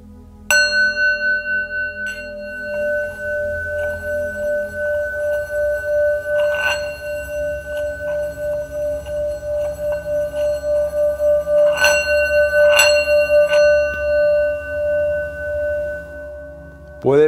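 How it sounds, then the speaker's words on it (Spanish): Tibetan singing bowl held in the hand and struck, ringing with steady sustained metallic tones and several fresh strikes that bloom and decay over a long resonant hum, heard alone without talk. "Puede percibirse la vibración, por ejemplo, en la mano que está sosteniendo a la campana tibetana."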